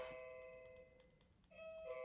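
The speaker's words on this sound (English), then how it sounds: "Doorbell's going." Quiet doorbell chime rings, fades, then sounds again about a second and a half later over faint room tone.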